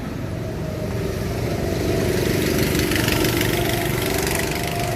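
Go-kart engines at the Six Flags Speedway in an amusement park drone steadily, a continuous mid-pitched motor hum with a slight swell, moderately distant and without speech.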